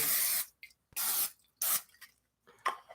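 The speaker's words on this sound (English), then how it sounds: "Now I am going to spray this." Three short, close hissing bursts of an aerosol cooking spray into a pan, separated by brief pauses, with a few small clicks after.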